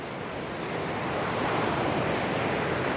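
Ocean waves surging and washing onto shore, a continuous broad roar that swells slightly louder midway, mixed with some wind noise on the microphone, with no talking.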